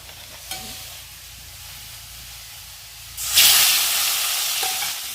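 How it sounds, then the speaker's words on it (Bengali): Fish fries in a kadai beside potatoes. A low hiss runs at first, then a loud, bright sizzle erupts and holds steady, close up. "মাছটা আগে ভেজে নিই"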